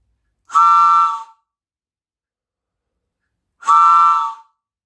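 Two separate blasts of a homemade train whistle, each about a second long with a steady reedy chord, separated by a long silence.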